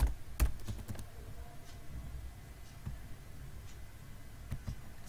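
Keys clack on a computer keyboard in short irregular bursts, faint and close, with a few sharper taps near the start and end and no voices.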